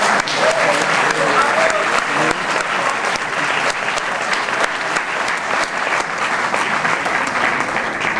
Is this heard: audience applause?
yes